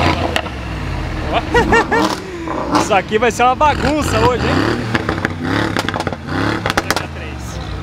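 Supercars at the Goldrush Rally, including a 720, roar and rev with rising and falling engine pitch and popping bursts, loud and close, while someone talks over the engines.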